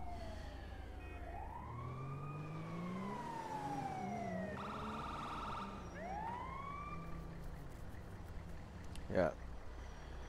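Ambulance siren in GTA V, loud swooping wails that rise and fall in long sweeps, broken by a brief harsh horn-like burst midway and a sharp thump near the end.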